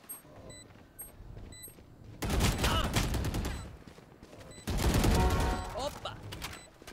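Gunfire in the shooter game Valorant comes in two loud bursts of rapid shots with short gaps between them, mixed with small in-game clicks and beeps and a player talking briefly.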